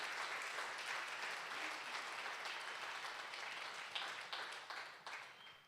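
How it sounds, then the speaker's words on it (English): Applause from a seated audience honoring those who served, a steady dense wash of clapping that holds level for several seconds and then thins into scattered, sharper claps near the end. "Let's give a round of applause for all that have served and all that have shown up."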